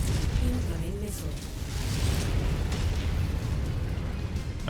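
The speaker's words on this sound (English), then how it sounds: "Incoming missile." Incoming missile explosions in the MechWarrior 5 video game, heavy booming blasts and rumbling impacts that merge into a dense, loud roar with crackling bursts, mixed with mechanical clatter.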